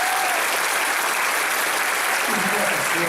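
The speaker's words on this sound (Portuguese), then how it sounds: "Pastor Pascoal, pastora Cleusa, a quem eu queria que essa igreja desse um aplauso a Deus pela vida." A church congregation breaks into loud, sustained applause, a dense wash of many hands clapping together for the full stretch.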